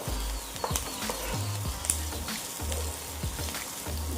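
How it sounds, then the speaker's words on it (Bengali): Stuffed masala okra (bhindi) fries with onions in a pan, a steady close sizzle broken by repeated scraping and thumping strokes of a stirring spoon. "ভিন্ডিগুলো দিয়ে একটু ভালোভাবে নাড়িয়ে নেব।"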